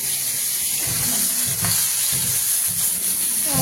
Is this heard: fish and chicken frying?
yes